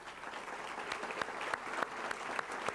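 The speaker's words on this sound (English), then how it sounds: "Let's give her a round of applause." Audience applause closing a meeting with an Illinois Department of Commerce official, steady broadband clapping from a room of people with scattered sharper claps standing out, moderately loud and continuous throughout.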